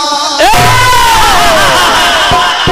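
An audience at a live devotional kirtan performance roars loudly with cheers and whoops in a dense, sustained crowd swell, while a voice rises above the noise.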